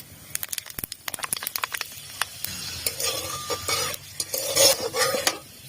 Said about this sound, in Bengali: তেলটা গরম হয়ে গেছে, ফোড়নে দেবো 5 ফোড়ন আর শুকনো লঙ্কা।